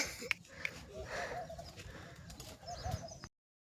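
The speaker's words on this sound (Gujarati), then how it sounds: "તો આ છે કબૂતર, અહીંયા પણ બેઠા છે બધા" Pigeons coo in low, throaty murmurs at a new pigeon setup, a soft continuous cooing with faint background noise and a couple of brief sharper chirps.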